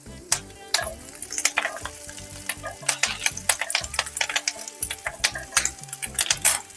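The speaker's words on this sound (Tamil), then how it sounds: "வெங்காயம் நல்லா வதங்கிடுச்சு." Onions sautéing with curry leaves in a pan for banana stem soup, a steady sizzle broken by frequent scraping and clinking stirs of a metal spoon, close and busy.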